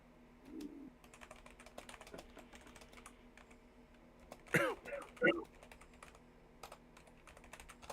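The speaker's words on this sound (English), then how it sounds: "I'm typing something out." Computer keyboard typing during an online tabletop role-playing game session, heard as quiet, irregular clicks across the whole stretch, with a couple of sharper, louder key strikes near the middle.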